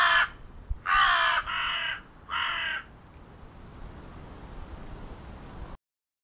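A crow, one of the UK corvids, gives a series of loud, harsh caws, three close calls in quick succession followed by quiet background hiss.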